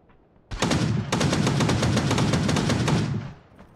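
An automatic gun in a video game fires one long, fast burst of shots for about two and a half seconds, loud and close, after a short opening shot.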